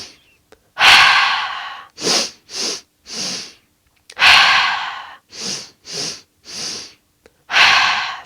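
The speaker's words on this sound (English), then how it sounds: "we will let everything go with a big exhale out through the mouth" Deep yoga breathwork up close: long, forceful exhales out through the mouth repeat in a steady cycle, with shorter, quicker breaths in between and no talking.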